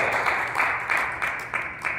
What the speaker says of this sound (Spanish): Denle un aplauso fuerte a Cristo en esta hora.